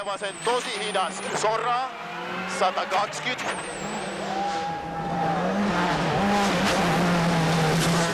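Rally car at speed on a rough, broken tarmac stage of the 2010 WRC Rally Bulgaria, its engine note rising and falling with gear changes and brief tyre squeal, heard under continuous commentary.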